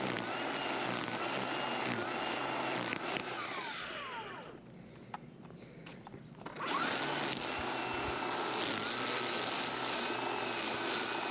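A lawn mower runs steadily while cutting Bahia grass on a Florida lawn, its loud engine drone fading briefly as it moves away and then returning strong, with no talking.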